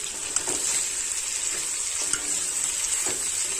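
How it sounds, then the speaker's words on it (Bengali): Taro pieces fry in a spice mix for a snakehead fish curry, giving a dense, steady sizzle with soft scraping stirs under it. "আবারও 2 থেকে 3 মিনিট ভালোভাবে নাড়াচাড়া করে কষাই করে নেব।"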